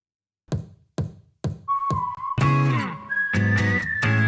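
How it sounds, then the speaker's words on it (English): A few sharp taps lead into a steady whistle that rises in pitch and holds, loud and close, with no talking. "Ooh, that comforting whistle."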